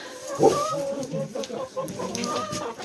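Chickens clucking steadily on a farm, with one louder squawk near the start and a low chorus of clucks continuing throughout.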